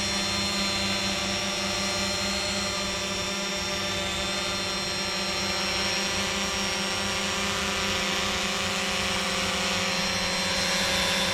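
Steady, loud buzzing whine of a Fimi X8 SE drone hovering nearby, its propellers holding an even pitch without pause.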